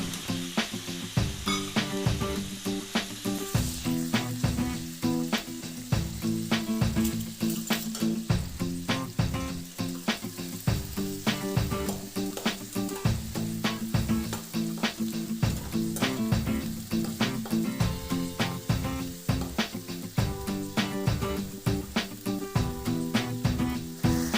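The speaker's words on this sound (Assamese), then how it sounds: "এতিয়া আমি কটা ভেজিটেবলছখিনি ভালদৰে ভাজি ল'ব লাগিব" Continuous loud sizzling of chopped vegetables for veg chow mein frying in a pan, with frequent rhythmic scraping and clinking of a spatula stirring throughout.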